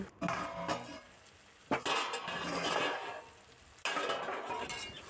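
A lid is lifted off a pan of bottle gourd cooked with shrimp, then a spoon stirs and scrapes the metal, with sharp clanks at the start, middle and end over a constant sizzle.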